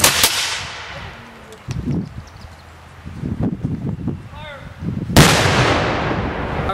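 A ceremonial gun salute at a Fourth of July tribute: two loud, sharp blasts a few seconds apart, each with a rolling echo, with faint outdoor crowd murmur and rustling between them.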